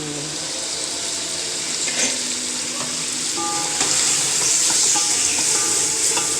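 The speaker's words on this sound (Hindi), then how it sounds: "अब इसको अच्छी तरह भूनेंगे, भून के पानी डाल के फिर चावल डाल दी उसमें।" Mutton sizzles and fries in a pot while being browned for pulao, a steady hissing crackle with occasional clinks and scraping of stirring, close and continuous without speech.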